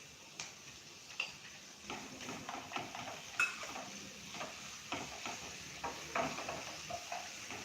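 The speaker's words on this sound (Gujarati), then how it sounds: "ડુંગળી સોતળા જાય એટલે આપણે લસણ, આદુ અને મરચાંની પેસ્ટ નાખીશું." Onion sautés with garlic, ginger and chili paste in a pan, making a soft, continuous sizzle broken by regular light scrapes and taps of a spoon, fairly quiet and close, with no talk.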